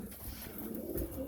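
Racing pigeons in a breeding loft give low, soft, continuous cooing close by, with murmuring calls overlapping.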